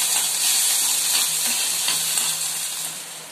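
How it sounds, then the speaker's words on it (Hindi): Mustard seeds, slit long green chillies and curry leaves sizzle in hot oil for a dhokla tempering, giving a loud, steady, close-up hiss and crackle throughout with no talking. "राई को तड़कने देंगे और इसमें डालेंगे लंबी हरी मिर्च काट के, कड़ी पत्ता, इनको थोड़ी देर रोस्ट करेंगे।"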